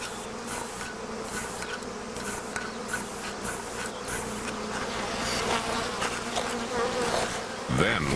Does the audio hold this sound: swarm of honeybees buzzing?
yes